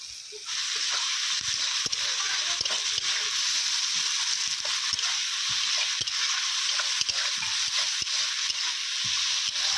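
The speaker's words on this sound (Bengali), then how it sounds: "পেঁয়াজগুলো হালকা ভাজা হয়ে গেলে টমেটো কুচিগুলো দিয়ে দেওয়া হবে।" Chopped onions salted and frying in oil in a kadai give a steady, bright sizzling hiss, broken by frequent soft scrapes and taps of a spoon stirring them.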